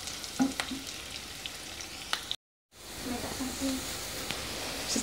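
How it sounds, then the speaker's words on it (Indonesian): Shallots and garlic sizzle and fry in a pan for Indonesian stir-fried papaya leaves with anchovies and green chili, a steady close hiss with some stirring clicks and a short silent break midway. "bawang merah, bawang putih tumis dulu ya teman-teman sampai kecoklatan biar harum dan enak"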